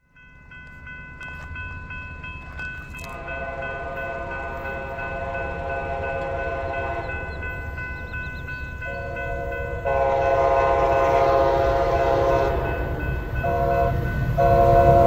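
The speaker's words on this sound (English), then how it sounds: "A very, very short BNSF Intermodal heading south to Chehalis." A short BNSF intermodal freight train heading south toward Chehalis passes close by, its multi-chime horn sounding in long steady blasts over a continuous rumble of locomotives and rolling cars that grows louder as it nears.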